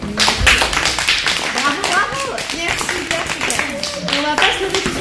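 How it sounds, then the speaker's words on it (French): Children clapping together in a philosophy workshop circle, a brisk round of hand claps with adult voices talking over and through it. "Les philosophes, déjà, on s'applaudit."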